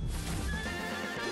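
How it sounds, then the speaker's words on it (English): A horse neighs loudly right up close while hooves clop, a short burst of whinnying with hoofbeats underneath and no talking. "Is it a horse?"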